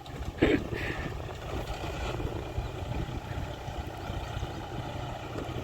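A John Deere 5045D tractor engine runs at a roadside pilgrim service camp under construction, a steady low rumble with a couple of brief, higher noises early on.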